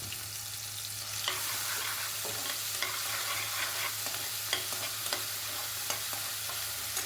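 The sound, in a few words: sautéing onion-tomato paste with shallots and curry leaves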